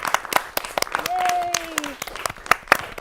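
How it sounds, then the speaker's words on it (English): Audience applause at a college draft show: scattered claps and a few cheers close by, with a voice calling out over the clapping. "let's give a round of applause."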